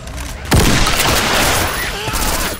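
Gunfire with explosive ammo in Left 4 Dead 2, a sudden loud blast followed by a sustained roar of shots and booming impacts that stays dense and heavy to the end.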